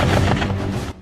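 Browning machine gun fired from a moving Turkish BMC Kirpi MRAP at targets 600–800 metres away during training, heard as a dense, continuous burst of loud, close gunfire that cuts off near the end.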